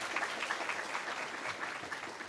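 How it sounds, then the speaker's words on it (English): An audience at a music technology conference claps in a steady burst of applause, a dense patter of many hands heard from within a lecture room, moderately loud. "please, one more round of applause for Dr."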